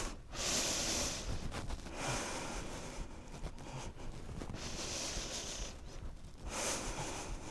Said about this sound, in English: We're going to take 3 breaths